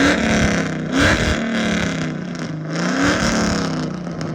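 Modified pickup truck engine revving up and settling back in rough, throaty swells, close and loud with no talking.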